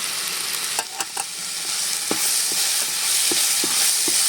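Ginger, garlic, coriander leaves and curry leaves are stirred in a hot pan for chicken biriyani, a loud continuous sizzle broken by several scraping spoon strokes, with no talking.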